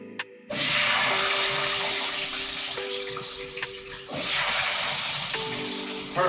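Potato slices for a tortilla española fry in hot oil, making a loud, steady sizzle that starts abruptly and continues unbroken throughout.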